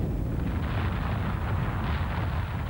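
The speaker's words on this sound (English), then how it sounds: "A tremendous explosion." The explosive eruption of Mount St. Helens roars as a dense, sustained rumbling blast with crackling texture, steady and fairly quiet, with no voices.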